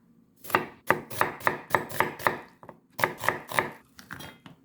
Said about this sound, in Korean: 양파는 좀 얇게 썰어줍니다.